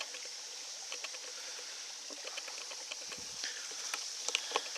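Creek water flows and trickles below a small drop-off on a bush trail in the Watagan Mountains, a soft, steady babble with light splashes and patter, fairly close, with no voices.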